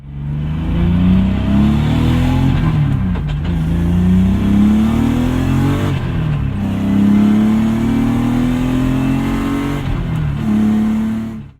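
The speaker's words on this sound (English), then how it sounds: "Yes, I am driving a BMW" A 1983 BMW Alpina C1 2.3 tribute drives along with its engine droning loud and close, rising in pitch as it accelerates through several gears and dropping briefly at each shift.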